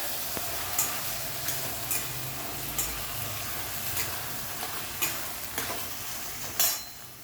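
Rice being stirred and mixed in a pan: a low frying sizzle punctuated by regular scraping strokes of a spoon, roughly one every second, close and moderately quiet with no talking.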